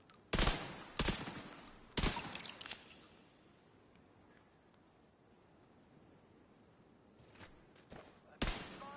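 Bursts of gunfire in The Division 2 video game, several sharp shots at the start, a quiet stretch in the middle, then a few more cracks near the end, close and loud.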